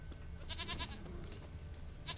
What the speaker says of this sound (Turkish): Keçi şurada.